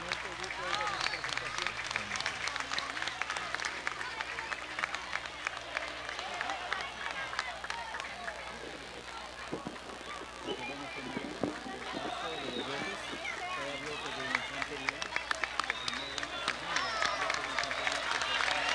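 Outdoor crowd applauding the National Army at a 20 July Independence Day parade, with scattered claps and cheers mixed with hoofbeats and crowd noise at a steady moderate level throughout.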